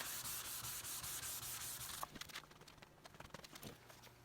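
Wet sandpaper rubbing back and forth over a yellowed headlight clear coat, steady rhythmic scrubbing strokes close up for about two seconds, then lighter, uneven rubs and taps.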